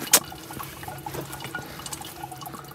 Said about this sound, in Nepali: पानीको धारा हेर न क्या दामी